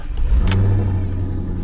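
A 2004 Corvette Coupe V8 with a Corsa Touring exhaust revs up close, its deep steady rumble rising and holding with no talk over it.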